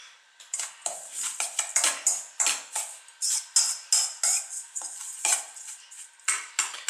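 A spoon scrapes and clinks against a bowl while homemade pâté mixture is stirred, a quick uneven run of bright metallic taps close by and alone.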